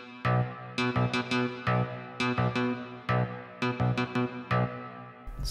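A DX7 VST bass preset plays a song's bass line as a run of short, punchy plucked notes in a steady, bouncing rhythm, clear and alone.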